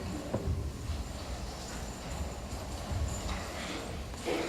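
A horse ridden away, its hooves clip-clopping in a steady, muffled rhythm over a dense background rumble, moderately loud with no talk.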